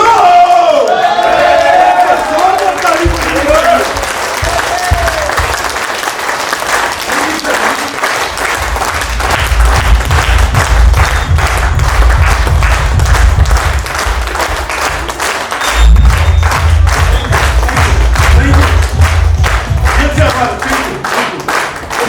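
A large audience at a company get-together applauds and cheers loudly and continuously, rhythmic clapping with crowd shouts over a low hum of background sound.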